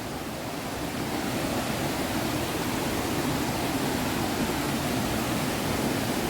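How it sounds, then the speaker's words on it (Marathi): A steady, dense roar of rushing water fills the whole stretch, broad and unbroken, from nearby Devkund Waterfall in Maharashtra, with no voices. "आवाज ऐका आवाज तो आवाज ऐकल्यावर आमकां असं वाटलं की वॉटरफॉल जवळ येलो हो"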